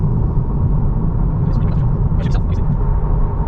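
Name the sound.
2023 Honda Civic accelerating on the road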